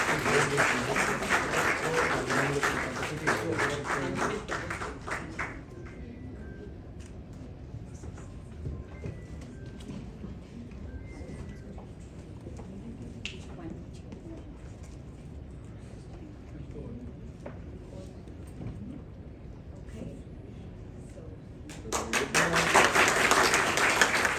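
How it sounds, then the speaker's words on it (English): Audience applause at an honoring event in Nepal: a full burst of clapping opens, then gives way to a quieter stretch of low murmur and faint talk, and a second loud round of applause swells back near the end. "a big round of applause for Kiran"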